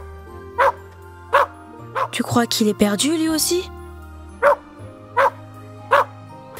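A white and brown shepherd dog barks in short, loud bursts, about eight times at a steady pace with a whimpering yip in the middle, while people speak French over a steady background drone.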